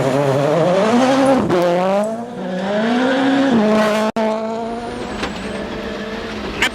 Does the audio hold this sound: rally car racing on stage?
yes